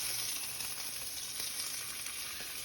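Ribeye steak searing in a hot pan gives a steady, bright sizzle and crackle, fairly faint and continuous throughout, with no speech over it.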